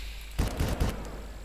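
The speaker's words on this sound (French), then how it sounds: "2 coups de shotgun" Shotgun blasts in the Far Cry video game: two or three heavy, booming shots in quick succession, loud and close, with a short fading tail afterward.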